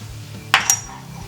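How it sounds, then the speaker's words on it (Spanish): A spoon or utensil clinks twice against a bowl while turmeric and spices are mixed, two sharp, bright knocks in quick succession over a quiet kitchen background. "Ahora mezclamos en un cuenco la cúrcuma"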